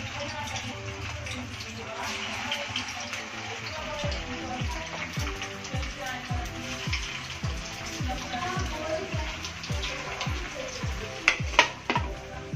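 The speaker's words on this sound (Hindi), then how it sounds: "पैन रख लिए हम, इसमें 300 ग्राम तेल डाल लिए हम। अभी एक एक करके डालेंगे।" Poha cutlets are dropped one at a time into hot oil in a pan and deep fry with a rising, bubbling sizzle and repeated sharp crackles, close by, under a woman's intermittent speech.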